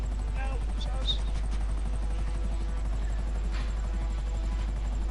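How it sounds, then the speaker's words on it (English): A helicopter in Grand Theft Auto makes a low, steady buzzing rotor drone that runs continuously, with faint scattered game sounds on top. "We'll chase that heli down."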